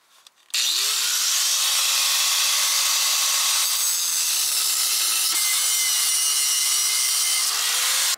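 A power tool grinds loudly and continuously through welded steel gussets on a new Lippert toy hauler frame, its pitch sagging and rising under load for about eight seconds, close by.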